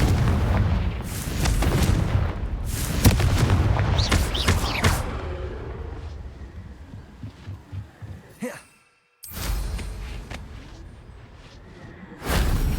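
Confringo fire spells cast in Hogwarts Legacy land as loud, booming blasts in quick succession, fading into a rumbling tail, then a brief silence before another burst.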